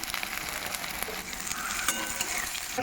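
Chopped onions hit hot oil already browning cumin seeds, giving a close, continuous crackling sizzle that swells slightly as they settle, with occasional sharp pops and no talking.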